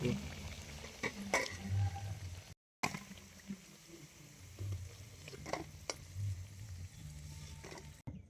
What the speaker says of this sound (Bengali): এবারে আমি একই রকম ভাবে সব কটা বড়া ভেজে নেব